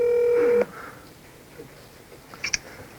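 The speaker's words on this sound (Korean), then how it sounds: "근데 한 3년 만에 전화하는 건데." A telephone tone sounds steadily for about half a second, then cuts off, followed by faint clicks and a couple of short, high electronic beeps.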